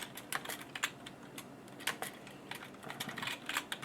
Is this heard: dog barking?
no